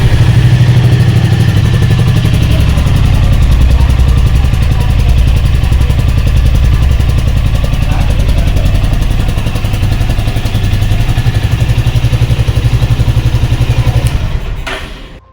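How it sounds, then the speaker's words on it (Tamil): A Royal Enfield Meteor 350 motorcycle engine idles steadily and loudly close by with a low, even thump for about fourteen seconds, then cuts off abruptly at the end. "மீட்டியார் 350 நம்ம ஸ்டார்ட் பண்ணி பார்த்துடலாம்."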